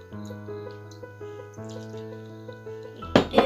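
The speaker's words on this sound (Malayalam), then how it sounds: "കുറച്ചും കൂടി വെള്ളം ഒഴിച്ചെടുക്കാം" Water is poured into a masala mix in a bowl while preparing beef fry. A steady tonal hum runs underneath, and near the end comes a short, loud splashing gush of liquid.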